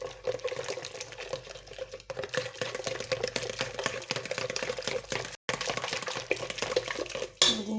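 Croissant dough ingredients with lemon zest are mixed in a bowl, making close, busy clinks and scrapes of a utensil against the bowl. The stirring runs steadily and stops briefly near the end, with no talking.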